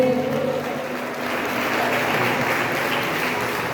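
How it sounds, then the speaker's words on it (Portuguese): A crowd claps in a dense, continuous burst of applause at a church communion service, loud and sustained for the whole stretch with no talking over it. "forte aplauso ao Senhor."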